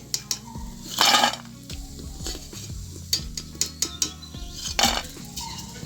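Crisp, golden-brown peanut pakoras lifted from frying oil, with a metal utensil clinking and scraping against the pan in irregular bursts over a light sizzle and no talking.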